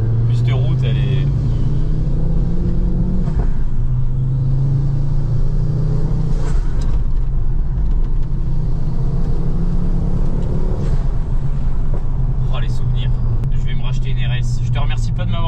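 Ford Focus RS being driven on a road in France, heard from inside as a loud continuous engine rumble rising and easing with acceleration, with people talking over it.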